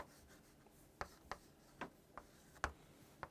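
A teacher writes on a board in a classroom: a quiet run of sharp taps and short strokes, spaced irregularly, over a soft room hum.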